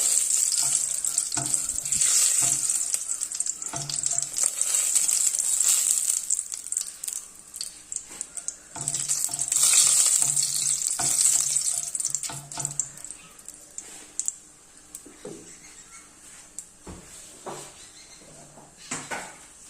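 Cinnamon pieces and bay leaves frying in hot oil in a pan for a chicken dish, a continuous bright sizzle that swells and fades with occasional stirring clatter, close and fairly loud, with no voice over it.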